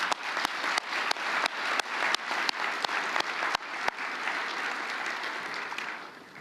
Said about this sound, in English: I want to applaud both of you. Please let me do that.